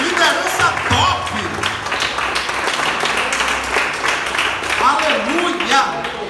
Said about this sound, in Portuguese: Vocês podem aplaudir o Senhor em nome de Jesus?